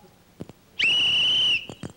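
A single sustained referee-style whistle blast, loud and steady for close to a second, with brief scuffling sounds just before and after it.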